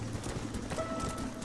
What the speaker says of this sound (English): There's a lot of horses out here.